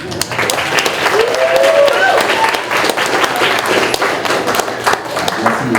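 Audience applause fills a school board meeting honoring an East Central High School senior lifter, steady dense clapping from a crowd over about six seconds with some voices mixed in.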